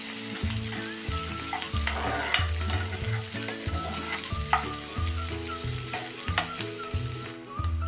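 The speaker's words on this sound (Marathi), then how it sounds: "कांदा चांगला मऊ पडेपर्यंत आपण हा आता परतून घ्यायचा आहे" Finely chopped onions sauté in a pan, a continuous close sizzle under a steady background hum, with occasional soft stirring scrapes and no talking.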